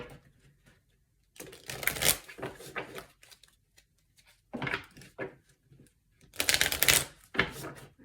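Tarot cards being shuffled in several quick bursts of riffling and snapping, close up, with pauses between, no talking.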